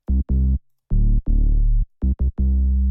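A simple synthwave bass, a saw wave layered with a Serum bass, plays alone in close, loud notes: short plucky stabs alternate with longer sustained tones in a steady rhythm.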